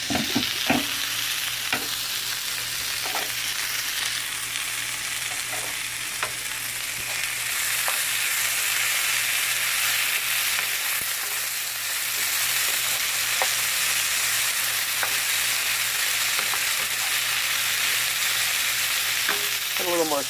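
Okra and tomatoes fry in a pan with a steady sizzle, broken by regular scrapes and clinks of stirring, close up with no talking.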